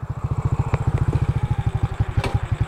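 A Sniper motorcycle engine that won't start idles loudly and close by, its exhaust pulsing in a steady rapid thump with a few clattering knocks on top.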